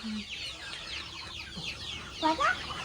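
Several chickens cluck and murmur close by in short, irregular bursts, with a louder squawking run toward the end.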